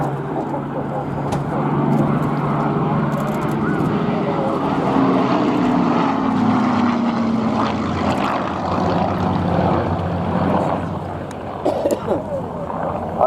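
Spitfire and Hurricane of the RAF Battle of Britain Memorial Flight passing at an air show, a steady propeller-engine drone with a slowly shifting pitch, heard under continuous commentary from a public-address voice.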